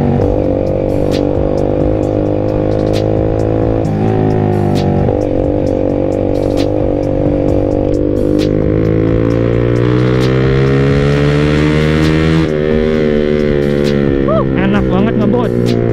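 A Yamaha Jupiter MX motorcycle rides fast at night in Bogor, its engine droning loudly and steadily with rising and falling revs and wind rush up close.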